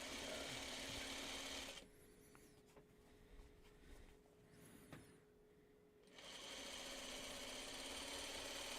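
A sewing machine stitches a seam in loud, rapid, even bursts, running at the start, pausing for a few quiet seconds of faint handling noise, then resuming steadily to the end.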